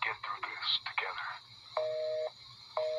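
A telephone line tone from a VHS tape plays: muffled speech gives way to two steady electronic beeps, each lasting about half a second, with a faint hum beneath.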